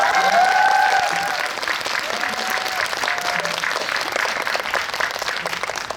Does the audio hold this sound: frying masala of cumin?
no